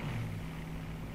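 Steady propeller-plane engine drone in a flight simulator game, a low sustained hum with a strong tone that dips slightly in pitch early on, continuous and fairly loud throughout with no talk.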